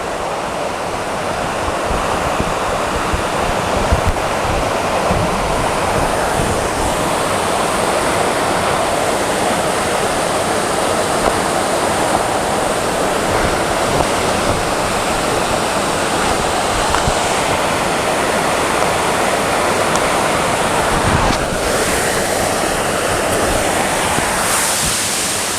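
Steady roar of a waterfall, loud and close, a dense unbroken rush of falling water that runs the whole time without any voices.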